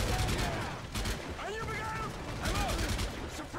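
Gunfire in Call of Duty MW3, dense bursts of automatic weapon fire rattling continuously with zipping effects, while a person talks over the game audio.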